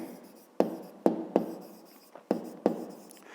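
Someone writes math by hand on paper, a quiet scratching with five or six sharp taps as the pen strikes and lifts, no voices present.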